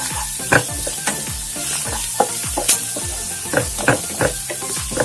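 Garlic-ginger paste sautéing in a pan for vegetable kurma, loud close sizzling with frequent sharp spatula scrapes and knocks against the pan in an uneven rhythm.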